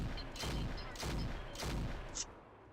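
Battle mechs in the Roguetech BattleTech game fire weapons in three heavy booming volleys about half a second apart, loud and dense with low rumble, followed by a brief sharp high blip.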